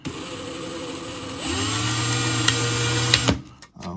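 A power drill bores holes through a Team GFRP sprint car body kit panel, whining steadily, dropping to a lower loaded drone midway, then cutting off near the end with a few clicks.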